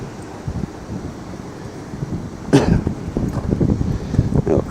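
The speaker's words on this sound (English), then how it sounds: "we're back into the wind again" Wind buffeting the microphone on a cliff above the seafront, steady gusty rumble that strengthens partway through, with faint surf-like wash beneath.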